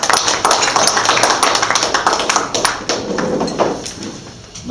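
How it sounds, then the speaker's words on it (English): An audience at a Kiwanis club lunch applauds a guest speaker with a few seconds of steady, close clapping that thins out toward the end. "Not used to getting applause before I eat lunch,"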